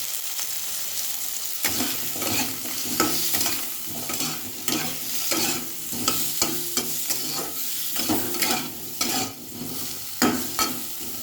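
Spices and ground cumin fry lightly in a pan, a soft sizzle running underneath while a spoon stirs and scrapes the pan in repeated irregular strokes, close by with no voices.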